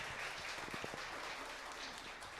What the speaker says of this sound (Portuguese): Aplauda o Senhor mais alto que você puder.